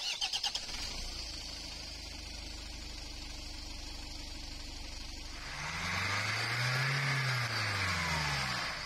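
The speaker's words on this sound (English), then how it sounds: "After reassembly, the engine started and ran perfectly" A 2004 Nissan X-Trail's YD22ETI diesel engine after replacement, with a steady low idle that rises into a louder, revving run near the end, its pitch sweeping up and down.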